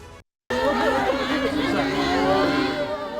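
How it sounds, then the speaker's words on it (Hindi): A crowd of hundreds gathered at a soldier's funeral, heard as dense, loud chatter and babble of many voices close by, starting after a brief silence and continuing steadily. "शहीद जवान वसीम के अंतिम दर्शन के लिए सैकड़ों लोगों की भीड़ उमड़ी"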